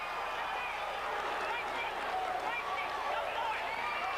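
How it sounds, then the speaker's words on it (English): A crowd at a wrestling match roars in a steady, dense wash of cheering and shouting that swells slightly, heard from within the arena. "if you hear the crowd level rise"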